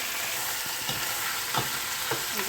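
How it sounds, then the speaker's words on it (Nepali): Chicken pieces for pulao fry in a hot pan with a dense, continuous sizzle, punctuated by a few soft stirring scrapes, no voices. "यसलाई पनि फ्राई गर्दैछौँ। थोडा सा हुँदै ब्राउन भइन्जेलसम्म यसलाई फ्राई गर्ने।"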